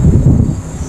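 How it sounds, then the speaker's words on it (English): Low, blustery wind rumbles steadily outdoors at night on Ocracoke near an old lighthouse, a continuous close buffeting roar with no voices over it. "Can y'all hear the wind?"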